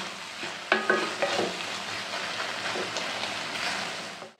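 Tomato chutney frying in oil with red chilli masala and spices, stirred with a spoon: a loud, dense sizzle close by, punctuated by repeated scraping clinks of the spoon against the pan.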